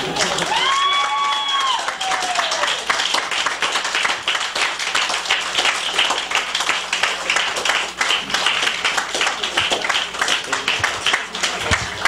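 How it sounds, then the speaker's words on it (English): An audience applauds the performers of a philosophy-themed ensemble show, with dense continuous clapping and some cheering lasting several seconds, loud and close, while a whistle-like tone rises briefly at the start and voices murmur underneath. "clap one more time for all of the rest of the performers, too"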